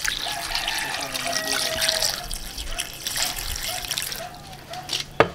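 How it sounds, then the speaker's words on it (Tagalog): Water is poured into a pot of Spanish-style bangus sardines layered with garlic, pickles, crushed pepper, salt, bay leaf and chili, a steady close trickle and splash lasting several seconds. "Lalagay na tayo ng tubig."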